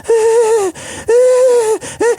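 A voice imitates heavy, rasping, Darth Vader style breathing: loud, close, drawn-out wheezy breaths in a slow rhythm, two long ones and then a shorter pair.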